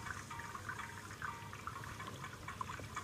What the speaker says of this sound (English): I can hear bubbling, definitely.